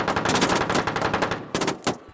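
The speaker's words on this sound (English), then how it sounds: "That was indeed gunfire, however. It came from within the cave." Rapid bursts of gunfire crack out from inside a cave, loud and sustained like automatic weapons, with a short pause before two more sharp volleys and a fading tail.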